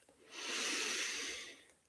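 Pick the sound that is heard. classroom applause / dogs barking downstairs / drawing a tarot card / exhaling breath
exhaling breath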